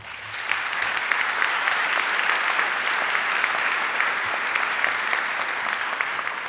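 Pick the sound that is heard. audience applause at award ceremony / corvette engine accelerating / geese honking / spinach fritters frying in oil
audience applause at award ceremony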